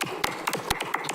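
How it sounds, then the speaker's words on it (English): Sparse applause at a council meeting, a handful of distinct, close, sharp hand claps in an irregular rhythm over a second or so, with a roomy ring after each. "I think we should give them a round of applause."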